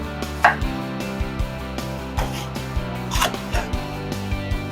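A knife chopping a red jalapeno on a cutting board for guacamole, with steady close taps at an even pace and a louder knock near the start, with no talking.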